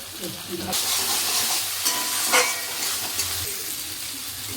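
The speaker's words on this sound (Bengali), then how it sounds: "একদম মশলাটা কিন্তু কষানো কমপ্লিট হয়ে গেছে, তেলও হালকা হালকা ছেড়ে এসেছে" Spice paste fries in oil with a steady sizzle while being stirred, with scraping and soft knocks from the spoon against the pan.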